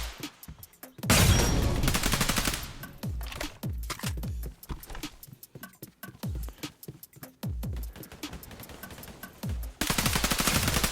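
Rapid AR rifle fire in the video game Weird Gun Game comes as dense bursts of sharp, loud shots, repeated in quick strings with short pauses between volleys. No one talks over it.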